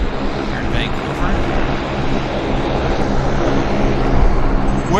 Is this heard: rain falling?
no